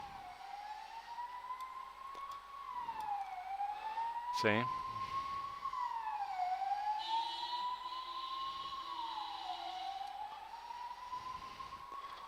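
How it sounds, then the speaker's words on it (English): A wailing emergency siren rises and falls repeatedly at a distance, with a brief spoken word and a sharp click midway. "Oh my god, that's your siren."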